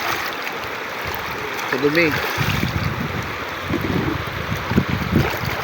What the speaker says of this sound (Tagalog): Nandito po kami sa gitna ng ilog.